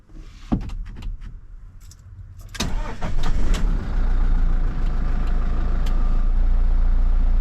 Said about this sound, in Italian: Adesso possiamo accendere il motore.